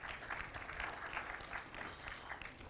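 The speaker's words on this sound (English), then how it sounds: "Let's clap for him." Steady applause from a conference audience at an international remote-sensing event, a dense, even clapping wash lasting a few seconds.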